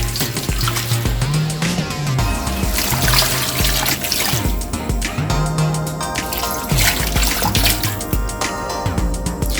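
Three cups of water are poured into a pot of egusi stew, giving a continuous splashing trickle with gurgling bursts, close and steady for several seconds.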